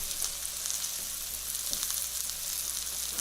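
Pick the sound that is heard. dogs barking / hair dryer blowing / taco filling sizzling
taco filling sizzling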